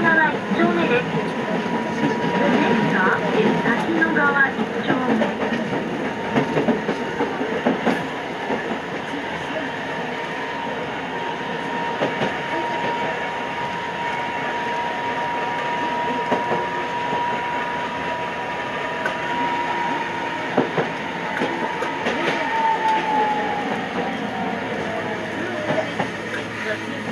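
A Toden Arakawa Line 8800 series tram runs on rails in Tokyo, a steady rumble with clicking over rail joints and a thin squeal rising and falling, while an onboard announcement voice talks over it.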